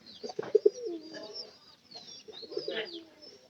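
Nearby pigeon cooing: a few low, throaty rolling coos in two short bouts, fairly quiet, with no talk over them.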